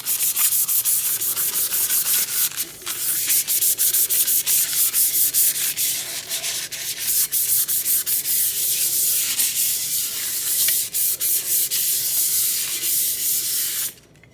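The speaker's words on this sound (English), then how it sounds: "you're going to want to sand it so that it can roughen it up" Sandpaper roughening the surface of an epoxy tumbler before paint and epoxy, a steady, close scratchy rubbing that runs continuously for about fourteen seconds and cuts off at the end, with no talking.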